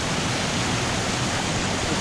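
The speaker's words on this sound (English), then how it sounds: "there's more nice little cascades" Small river cascades near Guadalupe, Colombia pour in a steady, dense broadband rush, a close and continuous wash of falling water with no talk over it.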